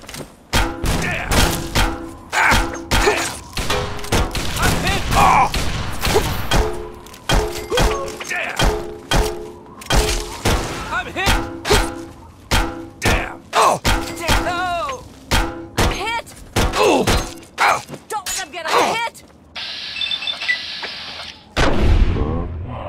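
Gunfire from a Fallout 3 battle sounds as a steady stream of loud, punchy shots and thuds repeating across the whole span, with voices shouting between bursts before a quieter tail.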